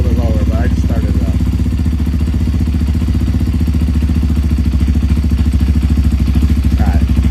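A Kawasaki KLX230 dirt bike, just started, idles steadily close by after an ECU tuner install. The engine makes a loud, even, low thrum throughout, with brief bits of talk over it.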